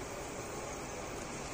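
A Brother DCP-T420W inkjet printer runs its internal cleaning cycle, giving a steady, dense whirring hum of motors and mechanism that stays constant and fairly loud throughout, with no voices.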